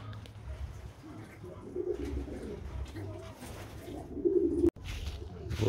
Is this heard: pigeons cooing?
yes